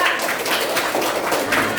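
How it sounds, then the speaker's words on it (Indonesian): Students in a classroom give a short burst of steady, fairly close clapping for a classmate. "Tepuk tangan untuk Nadia."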